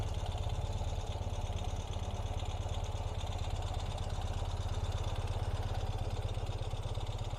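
A 2020 Ural Gear Up motorcycle idles with a steady, even, low engine thrum and fine rapid pulsing, running smoothly at a moderate distance with no voices.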